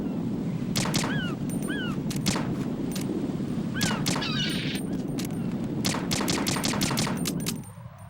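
An AK rifle fires in Metal Gear Solid 2, loud bursts of rapid automatic gunfire in several volleys, separated by short pauses and punctuated by high ricochet-like chirps, with no voices.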